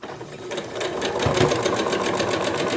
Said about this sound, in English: So I am stitching all the way around.